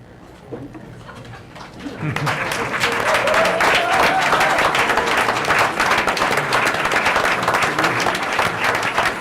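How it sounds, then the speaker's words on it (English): Audience at a Klein ISD school board of trustees meeting breaks into a sustained round of applause for native Texans standing up, loud and steady after a quieter start. "we'd like to ask you to please stand now so we may recognize you with a round of applause"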